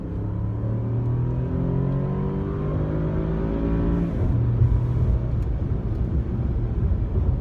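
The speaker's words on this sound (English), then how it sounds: "So a little acceleration in the Cadillac." A 2018 Cadillac XTS with a 3.6 liter V6 accelerating up through the gears, rising harmonic tones building steadily, then a shift and renewed climb, heard from inside with steady road rumble.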